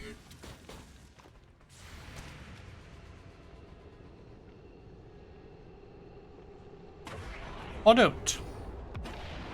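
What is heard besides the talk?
gunfire in video game XCOM 2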